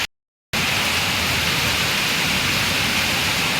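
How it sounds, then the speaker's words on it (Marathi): Steady, heavy rainfall hisses continuously after a brief silent gap at the start, a dense wash of drops with no voices. "खूप वेळ झाला पाऊस पडतो."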